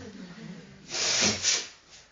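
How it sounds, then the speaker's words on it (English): A single close nose blow, a brief hissing rush of air lasting about a second with a second shorter puff after it, over quiet room tone. "Just let me blow my nose"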